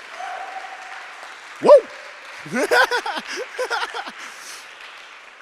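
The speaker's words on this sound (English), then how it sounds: "You guys give a round of applause or something." Rally crowd at a Gaza solidarity convention: a sharp whoop rises first, then a burst of overlapping cheers and shouts over a low bed of clapping, all fairly close and loud.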